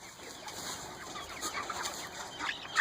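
Backyard chickens clucking near a chicken coop, a steady low murmur of soft clucks and calls at a moderate distance, with no talk.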